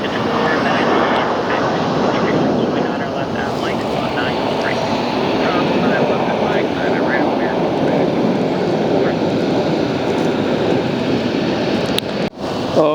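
A loud, sustained roar of a jet airplane landing on runway 17 at Philadelphia International Airport, steady throughout before cutting off abruptly near the end.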